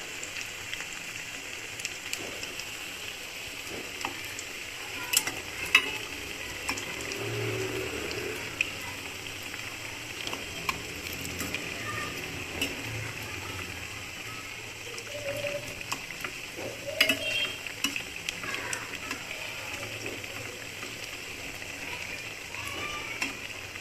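Dal bati frying in a pan over a low gas flame gives off a steady, faint sizzle with occasional crackles and small clinks as the pieces are turned over.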